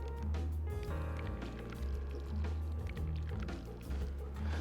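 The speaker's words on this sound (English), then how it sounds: "Let's just pour this over top of our chicken." Seasoned marinade pours over chicken wings in a kitchen, a close, steady liquid flow with wet squishing and dripping, and no talk.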